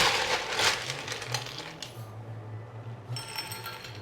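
Ice cubes clatter into a drinking glass in a quick run of sharp clinks and rattles, close and clear, followed by a brief settling clink.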